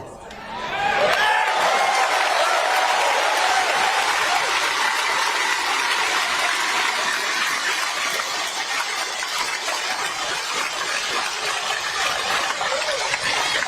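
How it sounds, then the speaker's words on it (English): Broad, steady applause from an audience at a political speech rises quickly and holds as a dense, continuous wash of clapping with a few voices mixed in. "So he gets a good amount of applause when he says it's not just one political party."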